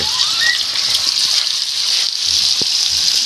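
Hot oil crackles and hisses steadily in a frying pan, a dense, bright sizzle that stays loud throughout with no talking.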